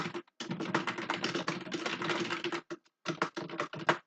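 Rapid typing on a computer keyboard, dense bursts of clicky keystrokes with brief pauses, close and clear with no talking.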